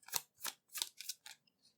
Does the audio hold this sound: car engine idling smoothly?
no